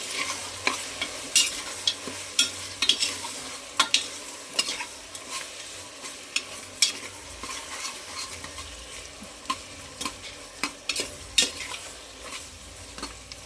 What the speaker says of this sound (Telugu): దాంతోపాటు కొంచెం కరివేపాకు కూడా వేస్తున్నాను. ఇప్పుడు వీటిని బాగా మిక్స్ చేసుకొని